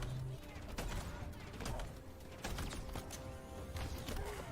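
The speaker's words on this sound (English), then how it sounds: "That's the new shotgun they were showing off" Riot shotgun in a video game trailer firing several heavy, irregular blasts over mechanical clanks and creaks, fairly faint and muffled.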